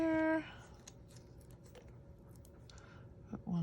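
Scissors snip card stock pieces for a handmade flower garden wagon card. A few quiet, close cutting clicks follow a brief tone, and a voice is faintly audible.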